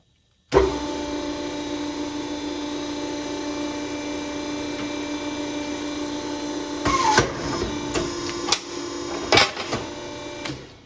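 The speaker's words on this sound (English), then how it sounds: "Got the hole punched. Now we'll just go through and punch all those holes on all of them." A punch machine runs a steady mechanical whine with a tonal hum, working on auger mounting plates for a deer feeder. Several sharp clanks and bangs from the punching come through near the end, close and fairly loud.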